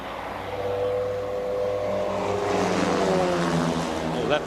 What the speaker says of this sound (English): Oh, that plane is very low now.